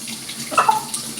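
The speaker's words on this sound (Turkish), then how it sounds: "Hemen suyumuzu açtık." Tap water running while a rooster is washed, a short close splash that swells briefly in the middle as the stream hits and spreads.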